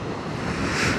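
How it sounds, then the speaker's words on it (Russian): Sea surf washes onto a shore in a steady broadband rush, with wind buffeting the microphone; nearby and fairly loud for a brief moment, no voices. "Какие волны."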